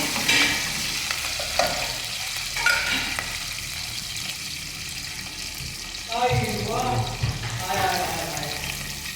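Onions fry in a pan in a home kitchen, a steady sizzle with stirring and clinks of a utensil, mixed with running water and background voices talking.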